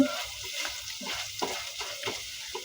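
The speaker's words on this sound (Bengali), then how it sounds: "তারপরে দুইটা পেঁয়াজ রসুন দিয়ে লাল লাল করে ভেজে নিচ্ছি" Onions and garlic fry in a pan with green chilies and ginger, giving a steady close sizzle broken by recurring scrapes of stirring throughout.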